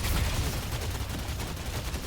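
Rapid gunfire from the video game Deadlock pours out as a nonstop stream, the shots blurring into one dense, fast rattle that runs for about two seconds and ends in a sharp burst.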